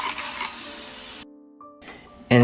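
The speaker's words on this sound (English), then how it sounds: "spray on a little water" Water spritzed from a spray bottle onto freshly patted soil in a small homemade seed-starting greenhouse, a steady close hiss for about a second, then a quiet gap and a brief final burst.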